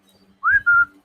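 A person whistles to catch someone's attention: a single loud, close two-part whistle, rising into a held note, then a slightly lower second note, alone in quiet.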